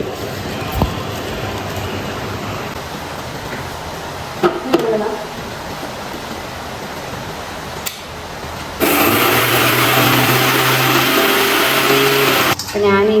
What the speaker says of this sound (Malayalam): റവ പൊടിക്കാനായിട്ട് മിക്സിയിൽ ജാറൊക്കെ ഇട്ട് കൊടുക്കാം.